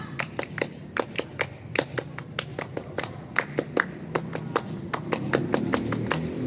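Rhythmic Scout clapping from a group, sharp, evenly patterned bursts, many hands together, fairly loud over a low room murmur.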